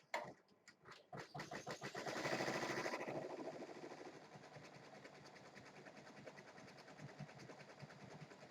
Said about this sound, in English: This is the metallic thread sewing right now.